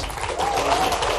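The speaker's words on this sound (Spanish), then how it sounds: "Un aplauso." Studio audience applause on a Spanish-language talk show, a steady broadband patter of clapping at moderate level with a faint voice underneath through the brief stretch.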